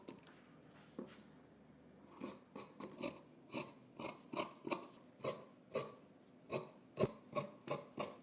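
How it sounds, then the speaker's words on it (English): Scissors trimming the fabric seams of a sewn jumpsuit, a steady run of crisp close snips in an even rhythm after a short quiet start, no talk. "Let's go ahead and trim some of these seams."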